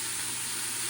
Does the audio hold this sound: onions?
yes